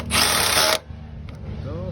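A power drill runs hard for about half a second while tightening a 5/16 bolt on a Dodge Neon SRT4 front bumper and intercooler. The whine is loud and close, then it stops abruptly and only quieter shop noise remains.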